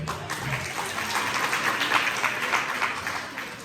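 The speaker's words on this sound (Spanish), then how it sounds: "Un aplauso para él." An audience of parents at a gathering gives a round of applause, continuous dense clapping from many hands, fairly loud and steady from start to finish.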